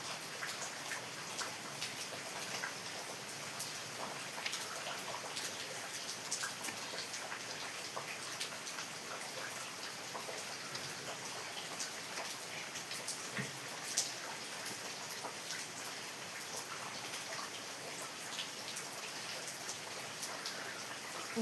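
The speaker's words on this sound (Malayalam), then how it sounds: "ഇന്ന് മഴ പെയ്തുകൊണ്ടിരിക്കണം" Steady rain falls with a dense, even patter throughout. The sound is fairly faint and continuous, with scattered sharper drops and no voices.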